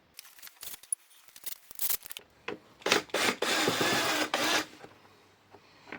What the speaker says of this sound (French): je vais les dévisser à la visseuse